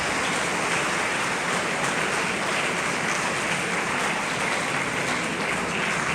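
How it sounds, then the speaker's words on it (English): Sustained, dense applause from a school audience honouring teachers at a silver jubilee celebration in Darjeeling, steady and loud throughout without a break. "Let's give all our teachers also a wonderful round of applause"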